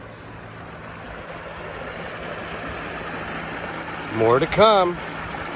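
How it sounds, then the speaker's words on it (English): Water rushes steadily from a broken lateral water main serving a house on Lincoln Avenue, a constant broad hiss that fills the whole stretch, with a voice speaking briefly near the end. "water is pouring out of, well, a broken water main."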